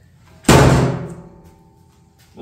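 A heavy welded steel door on a homemade competition offset smoker slams shut with one loud, close metallic bang that rings and decays over about a second, followed by quiet.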